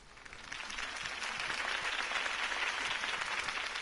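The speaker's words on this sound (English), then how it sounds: "could have heard that applause" A video game crowd applauds in a steady, continuous wash of clapping that swells slightly and holds, heard at a moderate distance.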